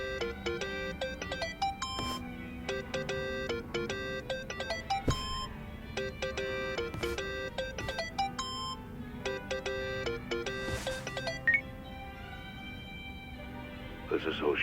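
A melodic electronic phone ringtone plays in the video game Yakuza: Like a Dragon, its repeating beeping tones running steadily for several seconds, with game voices speaking over it.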